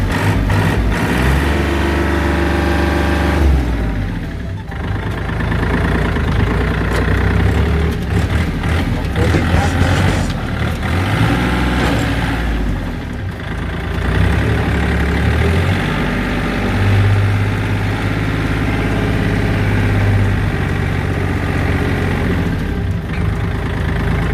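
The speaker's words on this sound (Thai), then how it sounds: "ลองมาลองสตาร์ทเครื่องยนต์ โอ้เครื่องยนต์นิ่งครับ" A 2019 Kubota L3218 tractor engine runs at a steady idle, a continuous low diesel rumble holding at an even level throughout, with someone talking over it.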